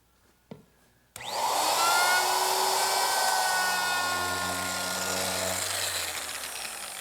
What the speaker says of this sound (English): I'll just use my router